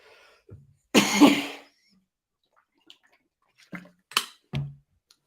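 One harsh cough bursts out near the start, followed by a few brief throat sounds and small noises amid quiet, during a live reaction to a Blues vs Brumbies rugby match.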